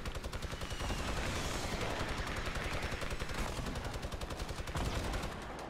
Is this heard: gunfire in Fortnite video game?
yes